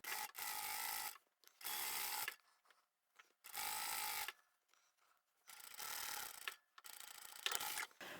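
A sewing machine stitches the lining of a reversible tote bag with heavier main fabric on top, running in five short bursts separated by quiet pauses, close and fairly soft.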